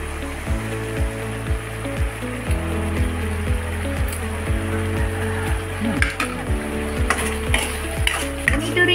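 Adobong pusit, squid adobo, simmers and sizzles in a pan with a steady bubbling hiss. A low rhythmic tapping and occasional light clinks of utensils run throughout.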